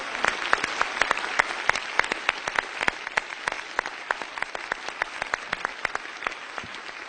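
Steady applause from an audience claps continuously for several seconds, a dense patter of hands with sharper individual claps standing out, no voices on top.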